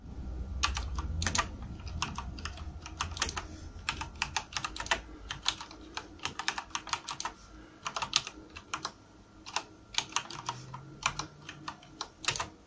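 Close, clicky typing on a HyperX Alloy Elite RGB mechanical keyboard, quick irregular bursts of crisp keystrokes with short pauses between runs.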